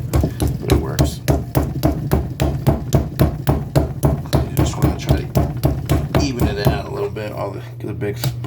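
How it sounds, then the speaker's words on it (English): Chicken pieces pounded flat with a drinking glass, a steady rapid series of loud heavy thuds on a kitchen surface, close up, slowing and stopping near the end. "I just use this freaking glass here because I don't have anything else to hammer it with."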